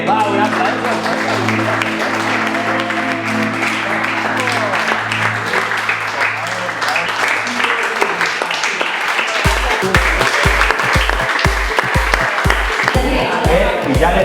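Applause from a crowd at a tennis campus event breaks out and carries on steadily, loud and close, with voices and music underneath and rhythmic thumping near the end.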